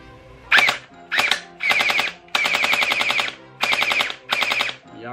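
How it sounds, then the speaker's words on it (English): A light-up toy gel blaster fires in six quick full-auto bursts of rapid, buzzy shots, close and fairly loud, with brief pauses between bursts and no talking. "So let's shoot it. Let's see how it sounds."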